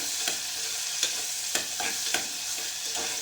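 Chopped onions frying in oil for a soya chunks pulav, a steady broadband sizzle with a few sharp stirring scrapes at regular intervals, close and moderately loud, no voices.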